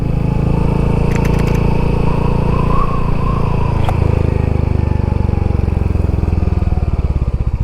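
A Royal Enfield Hunter 350 motorcycle rides along a road, its single-cylinder engine loud and close with a steady throbbing drone that shifts pitch as it accelerates, then settles into a pulsing, uneven chug near the end.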